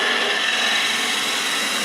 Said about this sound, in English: it's giving me a little bit of practice with a skew that I haven't had for a while